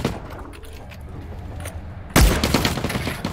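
Gunfire breaks out in the video game The Cycle: Frontier, where a quiet stretch of faint ambient noise gives way to a sudden loud shot and then sustained rapid firing.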